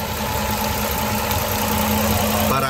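A 2010 Dodge Charger engine idles steadily with a Flowmaster exhaust, its continuous mechanical drone carrying a faint rhythmic knocking from loose flywheel bolts, close and constant throughout.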